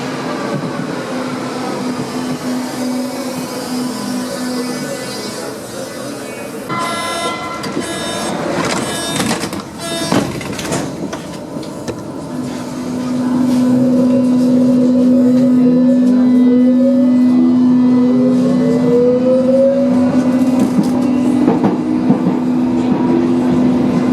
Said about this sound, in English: Here is a modern U-Bahn train.